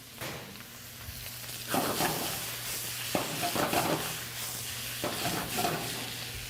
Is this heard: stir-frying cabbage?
yes